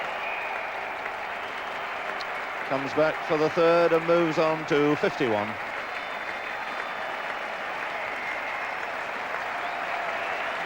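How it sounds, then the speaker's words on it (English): Applause at the Oval during an England v West Indies Test match, with England fielders and spectators applauding a batsman reaching fifty. The steady, distant clapping lasts throughout, and a commentator speaks briefly over it midway. "Applause from the England fielders"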